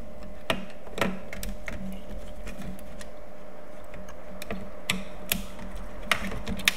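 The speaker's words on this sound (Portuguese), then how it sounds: "é bom sempre você ter uma maquininha, né, cara? Uma parafusadeirazinha" A small electric screwdriver works the many screws of a classic Xbox case, giving a low steady whir with scattered ratcheting clicks and sharp ticks, close up with no talk.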